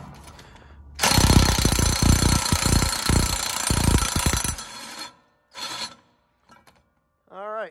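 An impact wrench rattles loudly for several seconds while loosening a lock nut on a corn planter, followed by a couple of shorter mechanical bursts and a closing clank.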